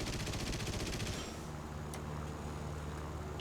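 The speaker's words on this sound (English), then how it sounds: "All I have left is the machine gun." Rapid machine gun fire from an aircraft in the combat game War Thunder, a dense fast rattle of shots for the first second, then cutting off to a steady engine drone with a faint distant pop.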